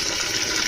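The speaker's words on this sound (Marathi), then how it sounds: "आता त्याच्यामध्ये पाणी टाकून" Water poured onto washed ration rice in a pot before soaking for rice papads, a steady rushing splash heard up close with no talk.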